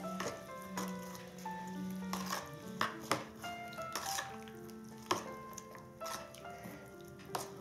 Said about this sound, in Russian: Снова тщательно все перемешиваем.